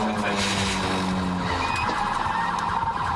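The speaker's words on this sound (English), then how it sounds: "The Camaro skidded, slammed into another vehicle, and finally came to a halt." A Camaro's tires skid during a high-speed police chase, a squealing screech with engine noise and possible siren tones, loud and close for a few seconds.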